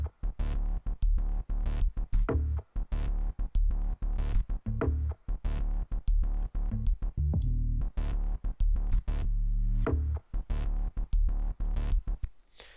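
Chaotic bass pattern from the Bloom Bass Impulse plugin with no effects, loud punchy hits in an irregular stuttering rhythm with deep low thumps and short gaps between bursts.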